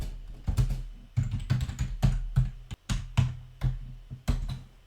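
VBA code is typed on a computer keyboard in quick, uneven bursts of close, crisp key clicks and taps, with brief pauses between runs and no voices.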